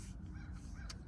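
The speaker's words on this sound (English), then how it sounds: "That bird is distracting me." A bird calling outdoors, heard as a few faint, harsh crow-like caws at a distance against a quiet background.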